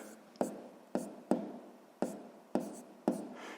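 Pen strokes on paper while a sixth-grade fraction math exercise is worked out by hand, six sharp taps and scratches in an uneven rhythm, each tapering off, close and fairly quiet with no talk.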